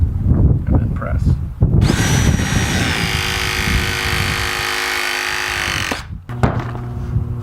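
Cold press tool with a V2 actuator and clamshell jaws pressing a MegaPress pipe fitting, a sustained mechanical whine of several seconds that cuts off abruptly, close and loud amid handling noise.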